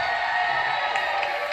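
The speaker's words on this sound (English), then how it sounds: "Give her a big round of applause" A game show studio audience on Let's Make A Deal breaks into a brief burst of applause and cheering, a dense, even wash of clapping with no talking over it.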